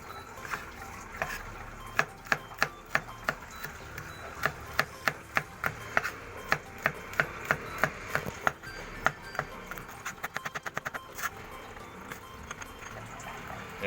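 Garlic being chopped with a knife on a wooden board, a steady run of sharp wooden knocks that speeds into a rapid burst near the end, close up over quiet kitchen background.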